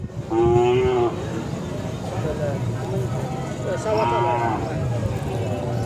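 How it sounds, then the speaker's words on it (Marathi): A large Khillar cow moos twice at a cattle market in Pandharpur, a long low call early on and another near the end, with a steady background murmur between them. "एकदम मोठ्या मापाची खिलार गाय आहे"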